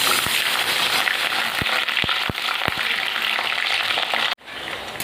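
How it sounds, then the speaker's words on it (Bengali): Lentil dumplings (bori) frying in hot oil in a kadai, a steady close sizzle with scattered sharp pops and crackles throughout, briefly cut near the end before resuming. "বড়িগুলো ভেজে নেব"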